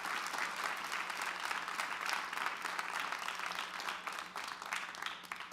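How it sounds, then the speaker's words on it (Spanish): A church congregation at a sermon applauds with sustained, dense clapping that holds at an even level throughout, fairly soft and distant-sounding, with no speech over it. "Dele el aplauso al Señor."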